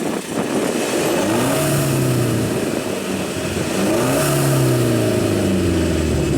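A BMW 1 Series with a 1.6 diesel engine revs hard while drifting, its pitch sweeping up and down in two rising surges under a constant road and engine roar.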